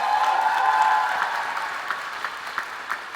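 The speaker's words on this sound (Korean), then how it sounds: "축사와 축하를 멋지게 해주신 우리의 자랑스러운 선배 이효리 동문께 다시 한 번 큰 감사의 박수 부탁드립니다." Steady applause from a crowd at a university graduation ceremony, loud at first and gradually tapering off, with a few sharper claps standing out near the end.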